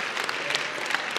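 A church congregation claps during a sermon, a dense, even burst of applause from many hands filling the short moment without any voice over it.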